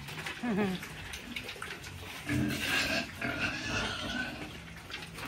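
Pet pigs grunting and snorting in a farm pen, a short series of close, rough grunts with people talking over and between them, plus some splashy feeding noise.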